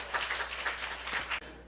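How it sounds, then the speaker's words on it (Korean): A church congregation applauds in a dense patter of many hands at moderate distance, steady for about a second and a half before cutting off. "할렐루야, 하나님께 박수 올려드려요."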